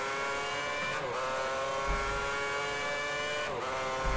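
Race car engine in F1 2010 on a rainy Grand Prix, a steady high-pitched whine held close and loud, with two sharp downshifts and engine-note drops about two and a half seconds apart.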